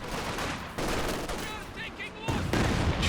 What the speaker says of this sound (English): Barrage coming through as well, forcing back all the grenadiers.